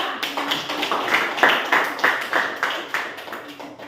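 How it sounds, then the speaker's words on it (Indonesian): A classroom audience claps for a student group after their presentation, a short burst of sharp, fairly loud hand claps in an uneven rhythm, with no talking. "berikan aplaus untuk kelompok 2"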